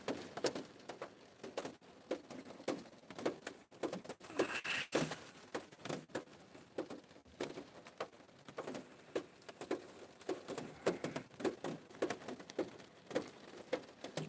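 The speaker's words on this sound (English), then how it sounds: "Can't believe it's still raining." Rain keeps falling outdoors in a quiet, irregular patter of separate drops ticking and tapping on surfaces, faint and scattered with short gaps, and no voices.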